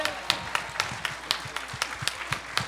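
Applause at a bohemian music show: sparse, crisp individual claps from a small group, irregular and fairly close, with faint murmuring underneath.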